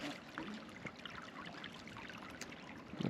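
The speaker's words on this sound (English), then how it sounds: "Definitely a pretty creek though." Water in a small creek trickles and burbles over rocks, a faint, steady flow running throughout with no voices.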